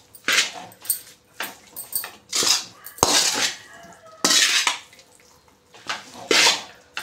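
Chicken egg noodles being tossed and mixed in a pan, a series of close metallic scrapes and clatters of utensil on pan coming in uneven bursts with short pauses between.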